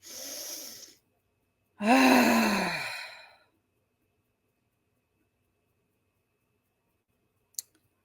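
A deep, audible breath taken during a guided EFT tapping session, a long airy exhale-like rush lasting over a second after a shorter breath, close to the microphone, followed by quiet and a faint click.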